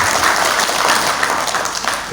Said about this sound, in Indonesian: Tepuk tangan untuk KRIS semuanya.